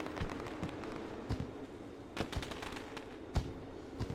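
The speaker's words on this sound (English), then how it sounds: "As the fireworks go off" Fireworks burst at a Knoxville dirt racetrack before a New Zealand midget car feature, a handful of sharp, scattered bangs cracking over a steady crowd-and-track rumble.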